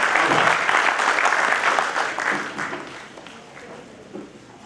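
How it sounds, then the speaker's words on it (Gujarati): Audience applause at a community conference, a dense wash of many hands clapping that starts loud and gradually tapers off over a few seconds, with faint voices mixed in. "અને સૌ સ્વાગતનું આપણે એક વખત તાળીઓના જયઘોષ સાથે એક સાથે અભિવાદન કરીએ।"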